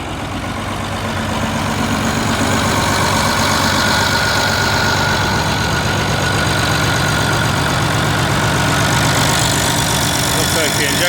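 Massey Ferguson 1100 tractor engine running steadily, a loud, close, continuous rumble that holds at an even idle throughout.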